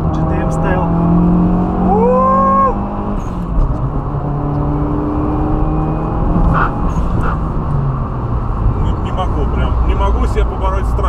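Turbocharged Lada Kalina accelerating hard from inside the cabin, engine tone climbing through gears with audible shifts and a steady loud road roar throughout, while people talk over it.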